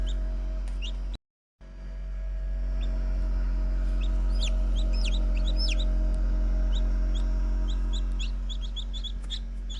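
Newly hatched chicks in a home egg incubator, just out of their shells, give repeated high, thin peeping chirps in short bursts over a steady low hum. No one speaks.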